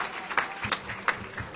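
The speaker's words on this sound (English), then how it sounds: "Applause, please." Audience applause at an athletics hall of fame awards dinner, a short burst of clapping with a few sharper claps standing out, fairly close and moderately loud.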